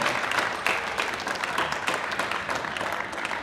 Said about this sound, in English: Can we give please a huge round of applause for Bird Toys for supporting these guys in the competitions and at home.